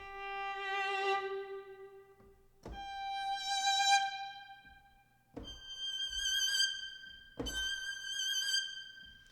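Four sustained virtual violin notes sound alone, each swelling with vibrato then ending in a distinct special release, with short gaps between.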